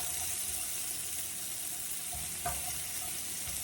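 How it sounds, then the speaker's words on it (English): Chopped fresh onion sautés in a pan for scrambled egg tacos, a soft continuous sizzle with a brief clink near the end and no voices. "So I'm gonna saute those onions now, or that onion."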